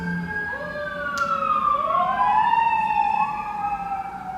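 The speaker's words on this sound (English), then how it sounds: "I apologize for the sirens going off in the back if you guys can hear that." Emergency vehicle sirens passing near a home close to police, fire and ambulance stations, wailing tones sweeping up and down and swelling louder midway before easing off, with steady traffic rumble beneath.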